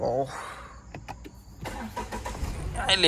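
A vehicle engine cranking and catching after a push-button start, a few short bursts then a rising rumble, with people talking over it.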